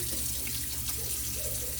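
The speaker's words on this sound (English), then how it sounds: "now I'm gonna give my hands another wash" Tap water runs steadily into a kitchen sink during handwashing, a close, continuous hiss with no speech.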